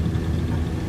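A light aircraft engine at full revs during takeoff, a loud, close, steady droning roar across a single second.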